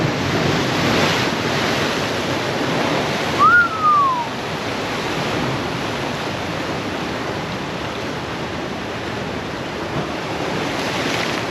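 Ocean waves surge below a coastal cliff lookout on the New South Wales South Coast, a continuous loud roar of surf mixed with wind, with one brief high bird chirp partway through.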